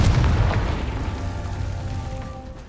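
Confringo fire spell blast in the Hogwarts Legacy video game: a loud booming explosion that hits at once and then slowly dies away into a rumbling tail, with no talking.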